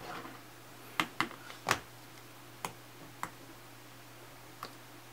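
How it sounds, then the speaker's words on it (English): A computer mouse clicks several times at uneven intervals, with sharp, quiet ticks standing out over a low, steady background hum. "Right mouse click, hit copy."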